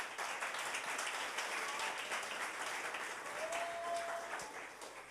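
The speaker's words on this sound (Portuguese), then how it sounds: "Vou aplaudir." A congregation at a Sunday church service applauds in a steady, sustained round of clapping, moderately distant and even throughout.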